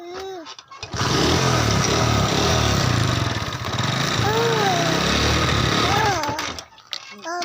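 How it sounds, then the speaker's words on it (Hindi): A motorcycle engine runs steadily and fairly loud for several seconds during a ride home, with a voice speaking briefly over it near the start and end. "चलो चलो मोटरसाइकिल।"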